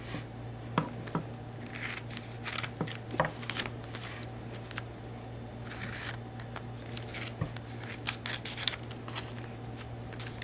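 Scissors snip through tape and cardboard in a run of quiet, irregular cuts and rustles over a steady low hum, with no talking.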